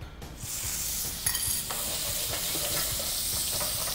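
Marinated pork belly (liempo), seasoned with sinigang mix, is pan-grilled and gives a loud, constant close-up sizzle with faint crackling throughout. A brief clatter comes at the very start, and nobody speaks.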